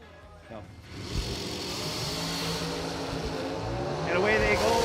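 Drag race cars launch off the starting line at the Jegs SFG 500K, their engines building into a loud, continuous roar that swells toward the end, with voices talking over it.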